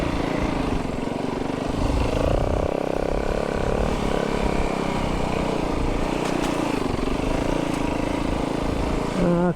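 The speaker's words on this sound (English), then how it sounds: "I can hear motorbikes everywhere around from behind." Motorbike engines drone and rev continuously nearby, a layered buzzing roar that rises and falls as bikes pass.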